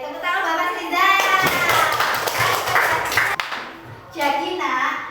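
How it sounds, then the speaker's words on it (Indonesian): Children clap for a classmate named Mas Rijal in a primary school class, a brief burst of mixed hand claps between stretches of a child and an adult speaking, close and fairly loud. "tepuk tangan buat Mas Rijal"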